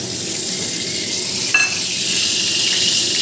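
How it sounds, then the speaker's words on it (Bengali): Oil heats in a wok for a spinach curry, giving a steady, even sizzle with a single soft clink partway through and the hiss swelling slightly afterward. "আজকে আমি পালং শাকের ঝোল করব, তার জন্য কড়াইয়ে তেল দিয়ে দিলাম"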